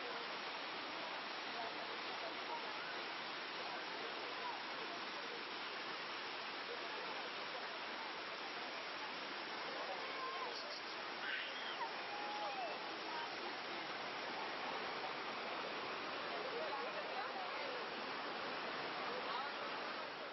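Dhuandhar waterfall on the Narmada river near Jabalpur, a steady broadband roar of falling water heard alone and continuous throughout, fairly even in loudness.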